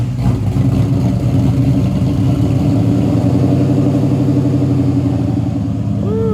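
A supercharged 1999–2004 New Edge Ford Mustang fitted with a Vortech supercharger rumbles loudly and steadily close by, its engine note holding throughout, with a brief rising whine near the end.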